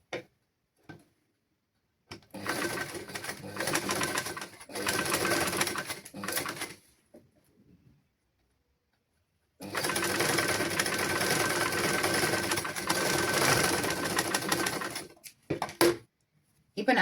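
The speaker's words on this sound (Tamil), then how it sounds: "அவசரம் இல்லாமல் மெதுவாக தையுங்கள்." A sewing machine stitches fabric for children's clothes in two long bursts of rapid, close whirring, separated by stretches of near silence and a few short clicks.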